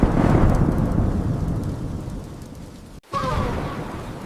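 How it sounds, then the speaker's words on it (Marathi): Thunder rumbles loud and deep over heavy rain, fading gradually, then after a brief cut a fresh burst of downpour with crackling drops returns close and strong. "थोड्याच वेळात आकाशात काळे ढग जमले आणि जोरदार पाऊस सुरू झाला."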